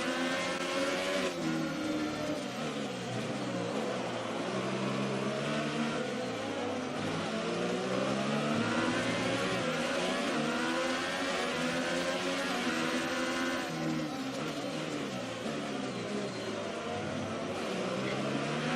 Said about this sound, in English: We're closing right in on the back of Charles Leclerc now